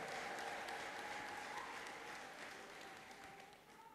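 A church congregation in Addis Ababa applauds, a faint, sustained wash of many clapping hands with a thin steady tone over it, gradually tapering off toward the end.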